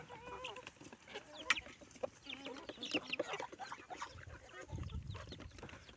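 A Leghorn hen clucks repeatedly on a backyard farm at feeding time, giving short, close clucks and squawks with other fowl sounds and rustling behind.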